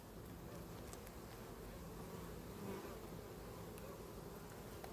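Dense, steady hum of honeybees buzzing inside a beehive during preparation for wintering, a continuous close drone with no voices.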